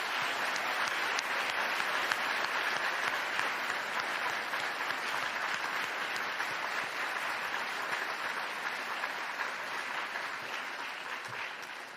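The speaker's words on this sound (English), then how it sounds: "could we all give a huge round of applause for Pinky?" Sustained applause from a large audience at a postgraduate medical education convocation, a dense even clatter of clapping that holds steady for the whole stretch and tapers slightly at the end.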